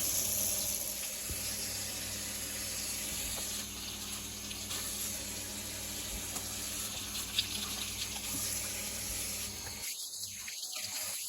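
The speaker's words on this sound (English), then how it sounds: "Everybody knows you gotta wash the sand out of your leeks." Leeks are rinsed under running tap water to wash out sand, giving a steady, soft hiss of flowing water at low level throughout.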